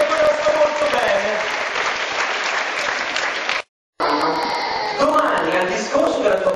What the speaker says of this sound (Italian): L'applauso al maestro Franco Cervelli, quindi alla sua grande orchestra